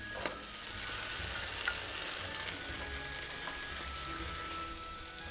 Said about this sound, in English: we are going to brown and saute 1 potato cubed, a russet, and 1 onion and 1 carrot chopped into a rough chop